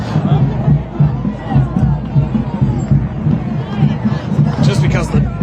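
Dense protest crowd at a Chicago May Day march, a loud continuous hubbub of many voices with scattered shouts and occasional cheering all around, close and enveloping throughout.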